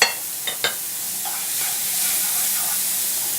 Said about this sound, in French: On va faire revenir les échalotes